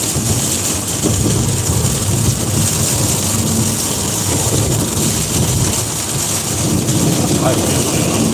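Steady rain noise with low rumbling that fits distant thunder, heard from inside a truck cab during an expediting run; constant loud wash throughout, with faint voice-like sounds mixed in.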